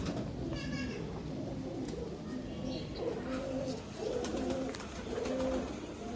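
Male pigeon cooing in a loft, a prized quality breeding cock, with low repeated coos rising and falling over steady background bird noise and faint chatter of other birds nearby.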